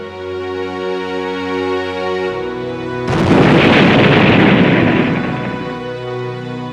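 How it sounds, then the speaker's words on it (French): Bomb blast in a wartime scene: a sustained tonal bed gives way to a sudden loud, broad roaring explosion that swells and rumbles for several seconds before easing off. "Lorsque la bombe a explosé à 12h42, le malheureux retardataire et 3 autres personnes ont été tuées."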